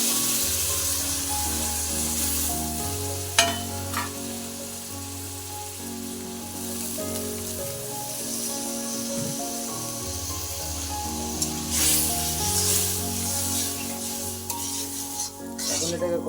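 Water poured into frying spices for potato dum (aloo dum) sets off a continuous hissing sizzle with occasional sharper spits, heard under steady background music.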